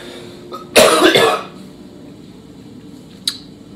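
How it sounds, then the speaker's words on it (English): A single harsh cough from a lingering cough bursts out close by, followed by quiet and a faint click. "This, coupled with my continuing cough,"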